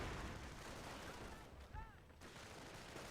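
Mortar and gunfire in a World War II tank battle game rumble as a dense, continuous wash of distant explosions and shots. A few faint tonal chirps cut through near the middle.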